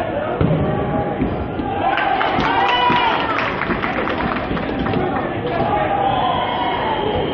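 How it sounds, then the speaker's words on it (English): Crowd cheering and applause at a college ultimate frisbee nationals match, James Madison against Saginaw Valley, a steady dense roar of spectators with shouts rising mid-clip, sustained throughout under some talk. "Based off the applause, it seems safe to say that something good happened for James Madison."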